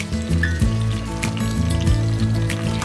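Chili oil poured into a pan of tomato soup, a steady liquid trickle and sizzle running continuously and fairly loud, layered over a low humming drone.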